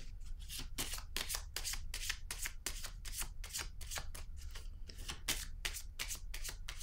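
Tarot cards being shuffled by hand, a quick run of crisp papery riffles and slaps repeating in an uneven rhythm, close and moderately quiet, with no talking.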